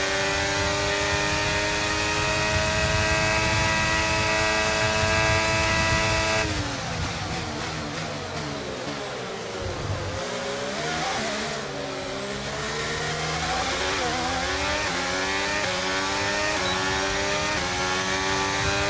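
A Formula 1 car engine in the racing game F1 Braking Point screams at high revs on a fast lap, with sustained harmonic whine, rapid gear-change drops and re-climbs, loud and continuous with no talk.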